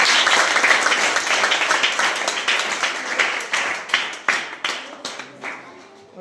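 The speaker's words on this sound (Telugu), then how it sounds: "అది ఒకసారి క్లాప్స్ కొట్టండి రా." Students clap together at a school science day celebration, a dense burst of applause that starts loud and thins into scattered, slower claps toward the end.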